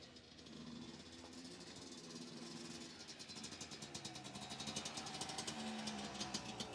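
A motocross motorcycle arrives at a village event in Nij Beets, its engine running with a rough, pulsing drone that grows steadily louder and more rhythmic as it draws near.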